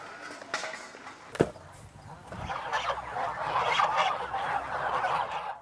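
Geese at a goose farm honk and cackle continuously, a crowded flock of overlapping calls with one sharp nearer honk, rising toward a louder chorus, with no talking.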